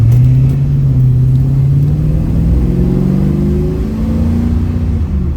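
A 1971 Chevrolet Nova fitted with a Dynomax exhaust accelerates with a deep, loud, continuous engine rumble. The revs climb steadily and stay close and strong throughout, with no talking.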